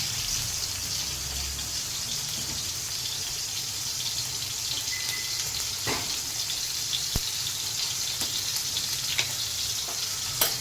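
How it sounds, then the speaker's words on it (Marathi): Ridge gourd sautéing in oil in a pan for a Marathi-style vegetable dish, giving a steady, fairly quiet sizzle throughout with a few faint clicks and taps. "त्याला व्यवस्थित परतून घ्यायचं मित्रांनो."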